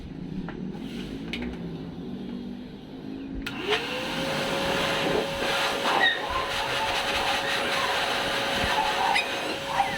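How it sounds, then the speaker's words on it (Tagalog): A steady, loud blower drying a Corgi puppy after its first bath roars with a whooshing hiss, switching to a higher, stronger tone partway through and running continuously without talk. "Blower natin sila para tuyo agad."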